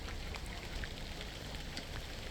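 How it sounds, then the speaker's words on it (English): Steady rain falls in Qatar, a dense, even hiss of drops hitting surfaces with scattered sharper patters, continuous and fairly close. "It's raining, dude."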